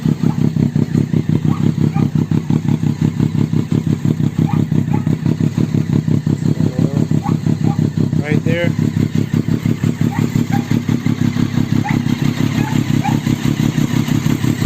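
A Triumph Daytona 675 sport motorcycle engine idles close by with a steady, rapid throbbing beat, and a person speaks briefly over it.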